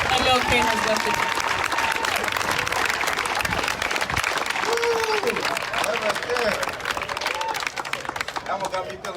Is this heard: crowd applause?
yes